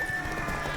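Horse hooves clip-clop briefly in The Witcher 3 as the mount is spurred on, a short, quiet burst of galloping steps over a faint game ambience.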